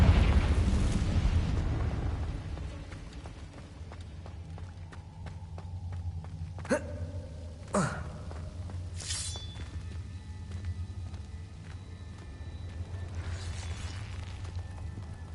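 A Confringo fire-blast spell bursts in Hogwarts Legacy gameplay: a loud boom at the start decays into a rumbling roar, followed by a few sharp cracks and pops over steady low background rumble, with no talking.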